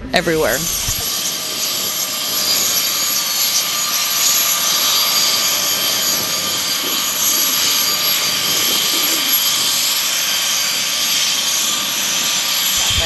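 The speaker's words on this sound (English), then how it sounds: "the CH-46 has actually been around since Vietnam, so pretty beloved helicopter" A CH-46 Sea Knight helicopter engine whines and drones steadily at close range, a loud continuous high-pitched turbine hum throughout.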